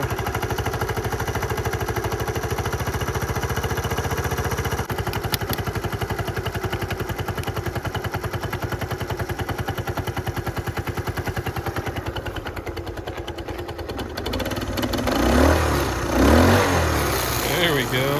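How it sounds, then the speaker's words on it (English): A 1970 Honda Trail 90 motorcycle engine runs with a steady, close, rapid idle putter throughout, holding an even pulse before the revs rise and waver in the last few seconds. "let's see if we can get this thing to idle"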